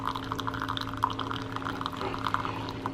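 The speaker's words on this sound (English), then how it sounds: "The only thing I don't like about this coffee maker is that it drips for a while after it finishes brewing." Coffee maker still dripping after brewing ends, faint irregular drips and trickles of liquid over a steady low machine hum, quiet and close with no talking.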